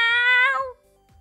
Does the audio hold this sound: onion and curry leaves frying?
no